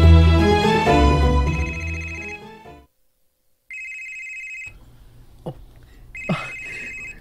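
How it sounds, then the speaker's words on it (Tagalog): A telephone rings back while someone makes a call: a loud melodic ringtone, then a pause, then repeated electronic ring tones with faint clicks and handling noises between them. "Tawagan ako si Sando."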